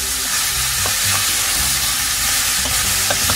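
Carrots and onions sizzle steadily in a frying pan while a spoon stirs them, with soft scraping strokes recurring over a constant close-up hiss.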